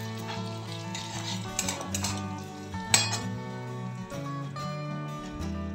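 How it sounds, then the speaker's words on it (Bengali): A spatula scrapes and clinks in a pan as whole cumin, a pinch of asafoetida, chilli flakes and dried fenugreek leaves are stirred on low heat, with soft repeated metallic taps over a faint, steady tonal background. "সবগুলো একটু হালকা আঁচে নেড়ে নিচ্ছি।"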